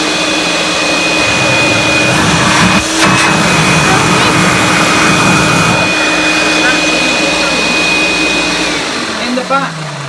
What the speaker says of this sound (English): switch this vacuum on and just show the function of the Dial-a-matic